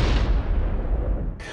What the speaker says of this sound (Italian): un'esplosione di una bomba